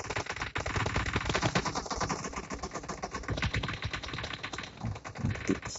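Rapid automatic gunfire from PUBG Mobile with zombies in the game, dense rattling bursts of shots running continuously at steady volume.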